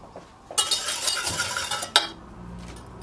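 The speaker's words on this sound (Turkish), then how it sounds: "ocağın üzerine almadan tüm malzemeyi homojen olana kadar karıştıralım" Sugar, starch and orange juice stirred together in a pot with a utensil before heating, a close scraping and clinking that starts abruptly, runs steadily for about two seconds, ends with a sharp knock, then fades to quieter scraping.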